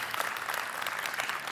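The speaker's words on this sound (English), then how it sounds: "Let's give Oscar Morales a round of applause" Audience at a global healthcare and life sciences conference applauding, a brief, dense patter of many hands clapping at steady moderate level without a clear rhythm.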